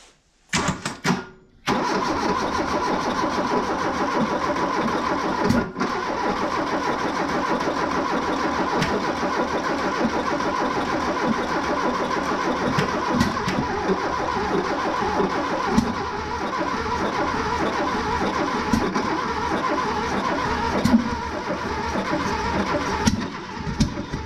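A VW Golf MK3 pulled out of long barn storage cranks briefly, then catches and runs, its mid-pitched engine settling into a steady, slightly uneven idle that continues close and loud throughout.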